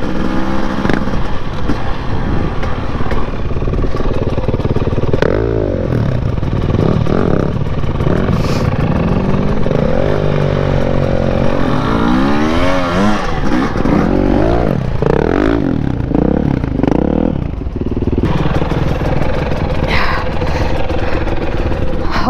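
A Husqvarna TE250i dirt bike engine revs hard while being ridden, loud and close throughout, rising and falling in pitch with repeated throttle blips and surges.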